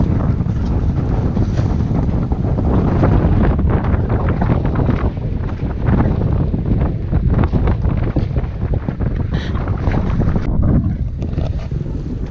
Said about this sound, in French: Ça souffle